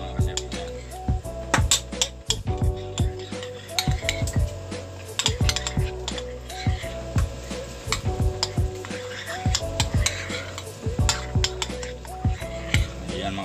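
A utensil stirring a bacon roll mixture seasoned with white pepper in a bowl, repeated rhythmic clinks and scrapes of metal against the dish, close and steady, with faint background hum.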